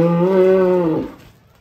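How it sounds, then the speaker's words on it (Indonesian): A single cow from a show-class cattle exhibition moos once, a loud, close, tonal low bellow lasting about a second before trailing off into quiet. "ini sapi pertama yang tadi atraksi"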